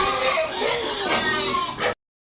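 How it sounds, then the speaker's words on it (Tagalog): Fattening pigs in a pen grunt and squeal at feeding time, a dense, continuous burst of oinks lasting a couple of seconds before cutting off abruptly. "Papakai papakainin na ni tatay yung yung mga alaga namin baboy."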